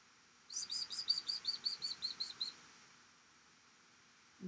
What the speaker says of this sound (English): No, you can't chirp back,